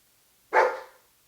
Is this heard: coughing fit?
no